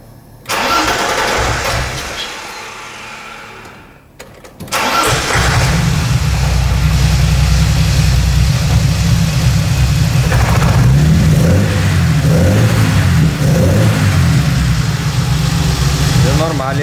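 A BMW E30 engine with VEMS engine management cranks over, falls briefly silent, then catches and runs with a steady loud idle, blipped and revved several times while a voice talks nearby.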